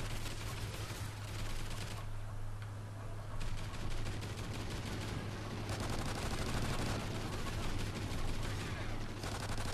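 Downgraded LMG in Call of Duty Ghosts firing in long, dense bursts of rapid gunfire, loud and nearly continuous with brief gaps, game audio throughout.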